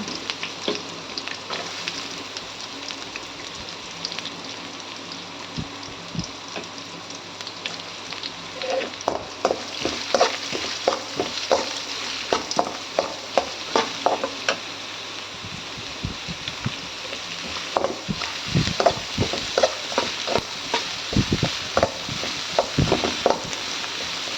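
Onion, grated coconut and chili fry together in a pan, a continuous crackling sizzle with scattered pops and scraping stirs growing busier toward the end, close and alone without speech.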